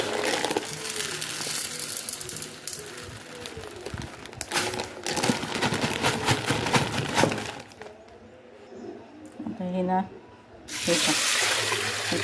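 Water runs and splashes into a large cooking pot over sago pearls, a steady gushing pour with clattering bursts and a brief pause before it resumes, close and fairly loud.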